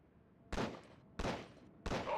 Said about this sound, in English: You are holding the Beretta Model 92, or otherwise known as the M9. Shoot a few rounds down the range.